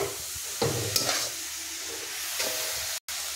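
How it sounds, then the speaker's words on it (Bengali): Coconut naru mixture being stirred in a pan, a soft scraping with a faint sizzle and a few louder strokes, heard alone with no talk. "ততক্ষণ কিন্তু এটাকে আমি নাড়াচাড়া করে এটাকে তৈরি করে নেব নাড়ুটাকে"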